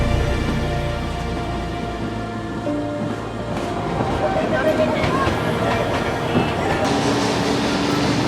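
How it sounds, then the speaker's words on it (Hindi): The Darjeeling Himalayan Railway toy train running around the Batasia Loop, a continuous rumble and clatter of the cars with a person talking over it. "इस लूप में घूमकर टॉय ट्रेन इतनी ज़्यादा हाइट पर भी आराम से चढ़ जाती है।"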